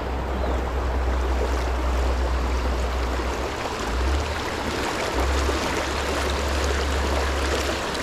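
Rushing white water of a trout stream roars steadily and loudly up close, a dense unbroken wash with a deep low rumble that swells and dips throughout, no voices.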